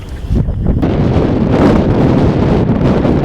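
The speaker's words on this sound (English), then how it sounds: "It sure is windy out here today." Strong wind gusts outdoors near a farm barn, a loud, steady roar buffeting the microphone with no pauses and no voices.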